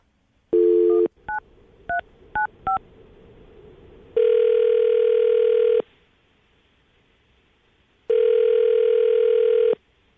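A phone call is placed to a radio-show caller: a few rapid DTMF keypad beeps, then two long, loud ringback tones separated by silence, no talking.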